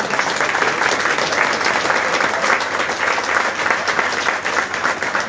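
A crowd at a folk music gathering (peña) applauds a performer with loud, continuous clapping that stays dense and steady from start to finish.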